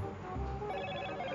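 A phone call ringing tone plays close and continuous, a steady electronic ring over a low background rumble, with no talk during it.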